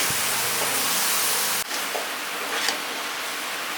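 Boiled bottle gourd sautéing with mutton in a pan gives a steady, loud sizzling hiss, with a sharp clatter partway through, then the frying continues alone.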